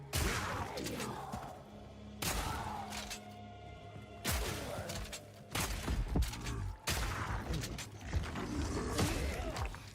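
Several heavy booming explosions in the video game Heroes of Hammerwatch II, with rumbling, mechanical tails, spaced a couple of seconds apart, fairly loud and without talk.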